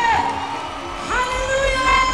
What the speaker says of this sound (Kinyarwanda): Reka tumwakire n'amashyi menshi cyane.